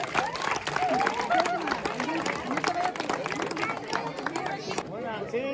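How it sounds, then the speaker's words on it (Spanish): Crowd applause and cheering at a donkey race in Mexico, a dense sustained wash of clapping with a hubbub of voices and shouts running throughout before cutting off near the end. "Démosle un aplauso."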